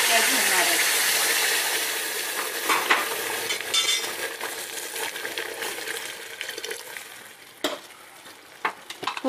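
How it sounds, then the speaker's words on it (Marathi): Hot water goes into wheat fried in ghee, raising a loud steamy hiss that slowly fades into softer bubbling and scattered spoon clinks and scrapes. "आता मी ह्याच्यामध्ये थोडं गरम पाणी टाकणार आहे"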